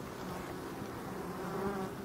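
Bees buzz steadily at a forest hive entrance, a faint continuous hum of many insects close by with no talk.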